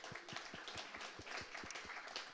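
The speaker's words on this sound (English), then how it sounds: "let's give Carbon 5 a round of applause" An audience claps for a lunch sponsor at a tech meetup, with a dense, steady wash of applause that stays fairly faint and distant throughout.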